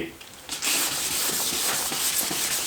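Sandpaper scrubs a car headlight lens during restoration, a continuous close, gritty rasp with rhythmic strokes that starts after a brief quieter moment and runs steadily to the end.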